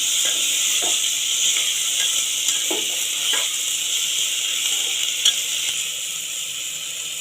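Green peas and beef fry in spiced oil, giving a continuous sizzle with scattered soft stirring and clinking sounds. No voice is heard.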